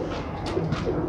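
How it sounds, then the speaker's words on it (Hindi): Chaudhry-breed pigeons coo softly in a loft, with a couple of low, rounded coos rising over steady nearby background murmur in a brief moment. "ये भी चौधरी वाले कबूतर, वही चौधरी साहब वाली ब्रीड है"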